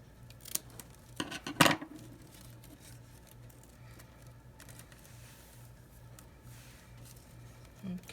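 Scissors snip off excess craft material for a Dollar Tree fall home decor project, a few quick close cuts in the first two seconds, followed by quiet handling and a faint low hum.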